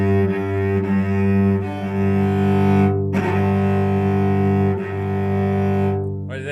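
A cello bowed with a German bass-style bow hold draws out long, loud, rich low notes up close, with a couple of bow changes breaking the sustained tone.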